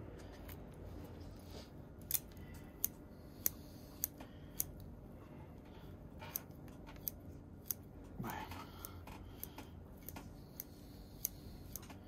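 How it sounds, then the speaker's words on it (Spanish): Pruning shears snip the roots of a large pyracantha being transplanted, giving a steady series of crisp, evenly spaced clicks over faint background rustling. "todo lo que nazca hacia abajo se lo cortamos también"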